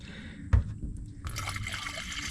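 Water pours and trickles into a 2004 Ford Explorer after a sharp knock, the liquid stream continuing steadily and fairly close.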